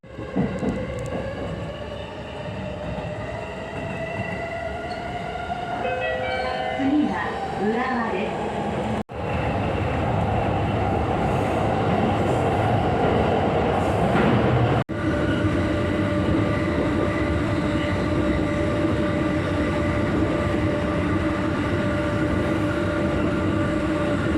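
JR East commuter train running between Shibuya and Tsurumi, a steady loud rumble and hum of the carriage in motion with a brief break around nine seconds, with faint talk in the background.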